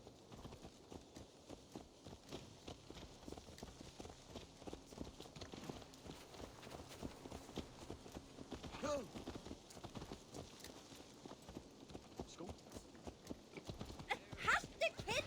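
Horse hooves from the video game Assassin's Creed Valhalla clop in a quick, steady rhythm, fairly faint and continuous throughout, with a brief whinny-like accent near the end.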